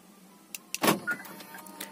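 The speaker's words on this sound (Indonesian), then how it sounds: "Ini spionnya udah auto retract ya. Jadi pada saat dikunci dia akan melipat otomatis." A 2019 Toyota Veloz locking, with brief clicks followed by a short whirring motor as the side mirrors fold in automatically, close up and fairly quiet.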